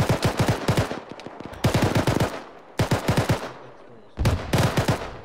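Machine gun fire in a military video game comes in four loud, rapid bursts, each a rattling string of closely spaced shots, with brief pauses between them.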